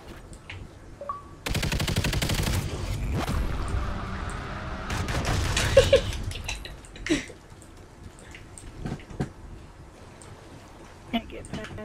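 Machine gun fire in a first-person shooter video game, dense rapid bursts of automatic shots for several seconds followed by scattered single shots and impacts, with a voice talking at times.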